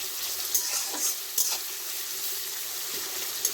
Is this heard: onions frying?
yes